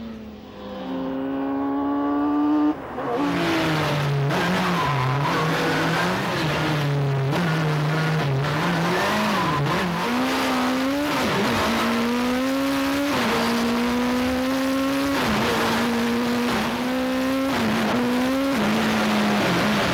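Campagna T-Rex three-wheeler engine revving hard on a race track, climbing through the gears toward 11,000 rpm, a loud, continuous close engine note rising and dropping with each gear change, no talk.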